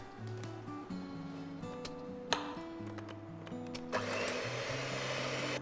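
An electric mixer starts partway through and whips softened, paste-like butter with powdered sugar in a bowl, giving a steady, close whirring hum over light background music.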